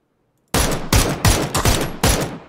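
A close burst of loud gunshots from a video game, five or six rapid blasts after a moment of silence.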